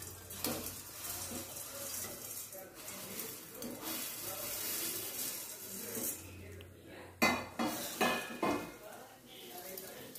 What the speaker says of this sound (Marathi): आता शेवया घालत आहे कढईत